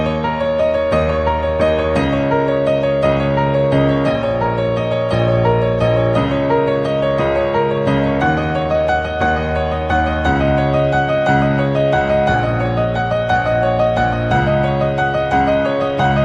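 A piano plays a simple beginner piece with both hands together, steady repeated chords in the left hand under a melody, continuous and evenly paced with no talking.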